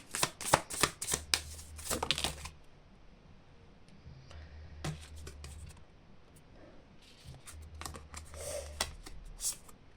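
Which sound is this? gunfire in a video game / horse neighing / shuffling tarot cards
shuffling tarot cards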